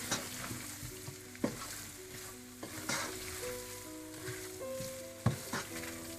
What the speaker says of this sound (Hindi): अब इसे अच्छी तरह से मिक्स कर लें